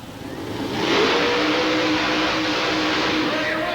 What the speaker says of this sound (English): Rear engine dragster, Red Heat, Melvin Brown doing the driving.